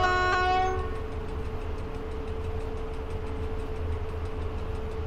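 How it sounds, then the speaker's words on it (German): Train horn in the Train Driver 2 simulator, a short loud blast at the start over a steady low rumble of the rolling train, then a continuing engine drone. "noch einmal hupen"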